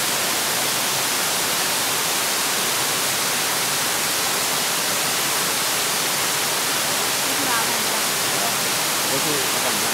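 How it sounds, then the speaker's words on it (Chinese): Qingshui waterfall rushes in a dense, steady roar of falling water, loud and unbroken, with faint voices barely audible beneath it. "清水瀑布。"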